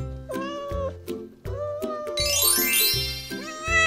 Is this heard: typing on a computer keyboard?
no